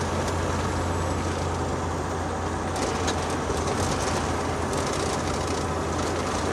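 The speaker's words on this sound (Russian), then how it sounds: "У меня всегда в грузовике так шумно." Constant loud rumble and road roar inside the cab of a long-haul truck driving in America, with steady low engine drone and broadband hiss filling the whole stretch and no talking.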